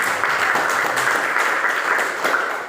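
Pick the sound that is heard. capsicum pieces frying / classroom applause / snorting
classroom applause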